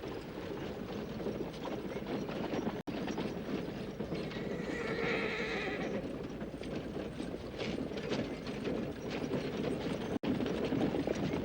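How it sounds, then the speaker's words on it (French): Horses approaching on a trail, steady hoof clip-clop with whinnies rising over a continuous rumbling background, close and loud throughout. "Les chevaux sont là."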